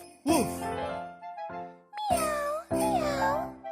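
A human voice imitates a cat, giving several drawn-out, sing-song meows in close succession, near and clear.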